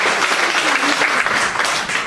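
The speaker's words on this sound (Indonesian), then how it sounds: "Tepuk tangan untuk Tuhan Yesus." Congregation in a church applauding together, a steady dense wash of many hands clapping throughout, loud and close with a faint voice underneath.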